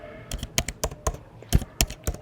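Crisp, close keystrokes on a computer keyboard, about a dozen distinct taps in an uneven quick rhythm, loud and clear with nothing else underneath.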